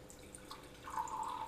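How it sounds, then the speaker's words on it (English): Tap water trickling and dripping through a Brita filter, a soft, faint wash of liquid that grows into a steadier thin stream partway through, heard alone and close. "That same water through a Brita filter,"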